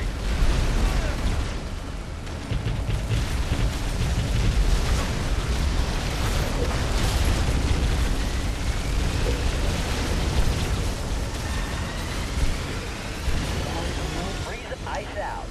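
Units firing and explosions in the real-time strategy video game Halo Wars, a dense continuous wall of booms, blasts and weapon fire throughout, loud and close, with game voice lines and talk mixed in.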